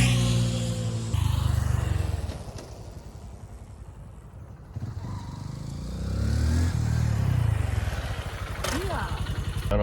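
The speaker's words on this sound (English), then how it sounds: "I rode my motorcycle around last night." A motorcycle is ridden at night, its engine droning low under wind buffeting, with the tone rising and falling as the throttle changes and briefly easing off midway.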